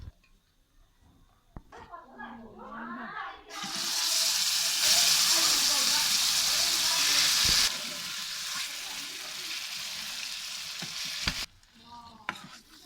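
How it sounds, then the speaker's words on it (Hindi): Loud sizzling and hissing erupt as turnips are tempered in hot oil, continuing for several seconds before easing, with stirring noises and a voice talking before and after. "मैं लगी तड़का लान लगी मैं शलजमा नूं"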